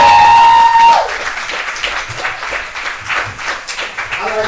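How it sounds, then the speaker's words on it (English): An audience at a live poetry night applauds for poet Miss Sin City: a dense, crackling wash of clapping rises after a brief opening tone and holds steadily to the end, with a voice briefly heard near the close. "Let me get a round of applause for Miss Sin City."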